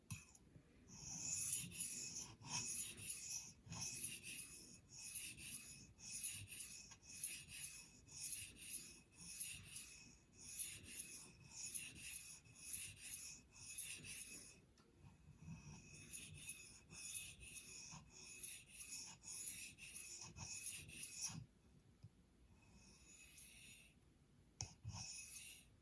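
Repeated rasping strokes of a knife blade drawn across a Spyderco medium bench stone, a steady rhythmic scrape with brief pauses between runs, close and fairly loud, with no talking.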